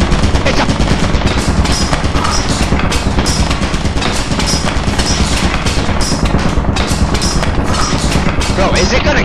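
Continuous automatic gunfire from the video game Lethal Company, loud and close, a dense unbroken stream of rapid shots with thuds, running the whole time while voices talk over it.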